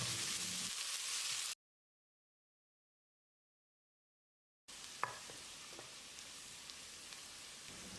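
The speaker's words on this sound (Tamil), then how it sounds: "வெங்காயத்தை பொன்னிறமாக வதக்கிடலாம்." Steady hiss and crackle of chopped onions sautéing in a hot pan for chickpea curry, cutting out to silence for a few seconds before the sizzling resumes with occasional pops.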